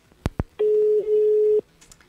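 Telephone line ringing while a radio show calls in live: two short clicks, then a single steady electronic tone lasting about one second, loud and clean against a quiet background.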